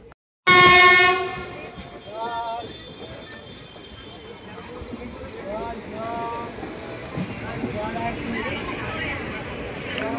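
The 13187 Maa Tara Express pulls into platform 1 at Bandel Junction with a loud, close horn blast, then a steady rumble of wheels and carriages, with faint voices underneath.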